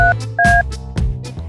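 A telephone dials a repair technician with a quick series of touch-tone beeps, some brief and some held slightly longer, close and clear with no speech.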